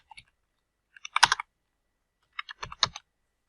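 Several light keystrokes on a computer keyboard come in two short clusters separated by a second of silence, close and fairly quiet, with no speech.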